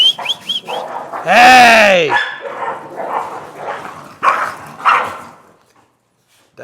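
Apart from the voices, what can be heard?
dogs fighting and barking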